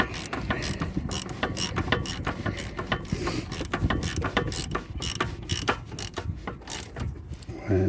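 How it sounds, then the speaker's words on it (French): Ratchet wrench working on the bolts of a car's front shock absorber, a steady run of quick mechanical clicks and metallic turns close up, continuous throughout with no talk. "Donc maintenant on a serré ici les 2 boulons, ça c'est pré-serré."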